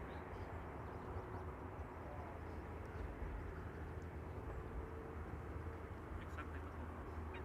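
Faint, steady engine drone from a propeller airplane flying directly overhead near an airport, continuous and fairly distant-sounding throughout.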